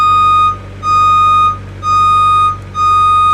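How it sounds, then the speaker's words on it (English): Loud, regular beeping alarm in a repeating on-off pattern, four long pulses over a low engine rumble as a 2019 JLG 460SJ boom lift raises its boom. "We're going to show you boom up."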